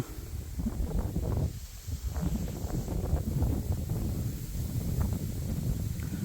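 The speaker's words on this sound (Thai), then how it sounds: "บรรยากาศลม" Wind gusts across an open rice field at harvest time, a steady broadband rush with fluctuating low rumble and microphone buffeting throughout, loud and close with no talk.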